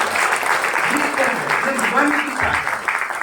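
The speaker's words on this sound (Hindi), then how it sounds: "ताली बजा दीजिए" An audience at a career talk on interviewing skills breaks into loud, sustained applause that fills the hall, with voices mixed into the clapping throughout.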